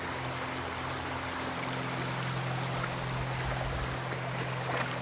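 Water flows continuously in a steady rushing murmur, with a low hum underneath and no pauses.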